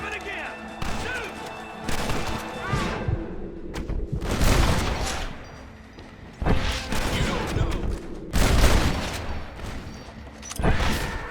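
Gunfire and crashing impacts in the Western video game Red Dead Redemption, with repeated loud bursts and volleys close up under a voice talking over the action.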